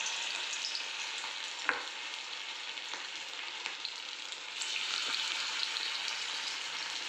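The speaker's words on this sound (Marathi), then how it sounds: "आपलं तेल तापलेलं आहे आणि मी आता चमच्याने ह्याच्यात हे सोडणार आहे." Corn fritter batter for Marathi makyachi bhaji spooned into hot oil, a steady bright frying hiss throughout with a few sharp clicks of the spoon, no talking.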